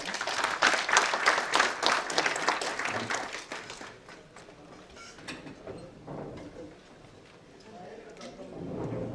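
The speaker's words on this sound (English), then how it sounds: "Can we please give them a round of applause?" Audience applause after introductions at a panel session, dense clapping at first that thins and fades over several seconds, with faint talk and room noise toward the end.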